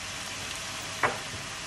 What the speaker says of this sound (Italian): e faccio evaporare mescolando frequentemente.